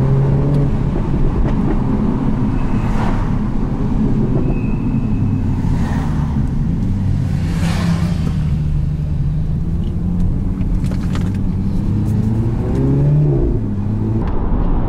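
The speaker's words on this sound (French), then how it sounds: "on met le mode sport, on profite des crépitements de l'échappement qui sont super sympathiques" Mini Clubman in sport mode giving a steady, loud exhaust rumble and engine drone, with a few faint crackles from the exhaust; no one speaks.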